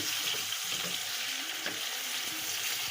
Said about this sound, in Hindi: ये देखें माशाल्लाह से तकरीबन 1 मिनट तक हमने इसको फ्राई किया है और बहुत अच्छे से ये फ्राई हो गया है।